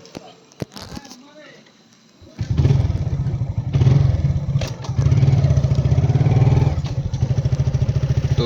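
A motorcycle starts up and pulls away nearby, its engine a rough, pulsing putter that swells and dips as it revs, with people talking faintly before it starts.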